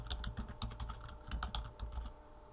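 Quiet typing on a computer keyboard, a quick irregular run of soft key clicks close by with no talking.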